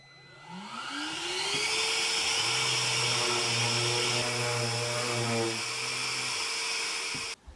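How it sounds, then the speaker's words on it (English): A power sander whirs up to speed and runs steadily at close range over wooden tool holders, a loud continuous whine with harmonic tones, then cuts off abruptly near the end. "Now, I'm just going to give them all a quick sand down."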